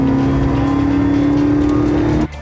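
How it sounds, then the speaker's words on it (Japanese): The AE86 H2/BEV concept car makes a loud, steady engine-like drone inside the cabin, like a sporty 4AG with a sports muffler, holding a constant pitch before dropping off abruptly near the end. "車の中はねエンジン音がめちゃくちゃするんですよ。"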